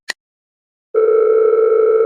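A short electronic click comes first, then after a pause a mobile phone call tone starts and holds as one loud, steady beep.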